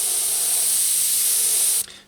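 Spray paint hisses in one loud, steady burst along the edge of a circle stencil on a low-rider saw, cutting off sharply at the end.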